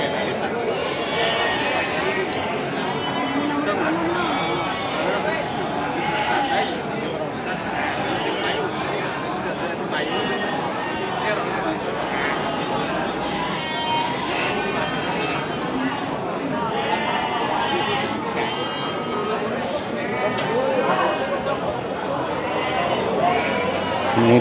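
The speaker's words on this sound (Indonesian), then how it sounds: "Ini besar sekali nih kambingnya sedulur ya." Goats at the Muntilan animal market bleat through a busy crowd while someone talks nearby. The bleats are intermittent and are partly buried under the steady chatter.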